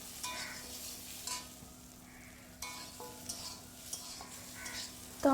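Spices for mango chutney fry with coriander powder in a pan, a low sizzle broken by several scraping strokes of a spoon against metal, close and quiet with no talking.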